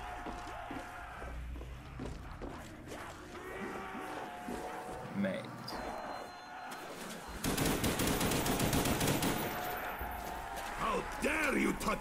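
Rapid automatic gunfire in Black Ops Zombies on the Shi No Numa map, bursts of shots crackling amid game effects and chaotic noise, growing louder and denser in the second half, with a voice talking over it.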